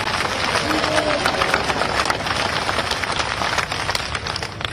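A crowd at a political rally in Dabra, Madhya Pradesh claps continuously, a dense steady patter of applause filling the open-air gathering.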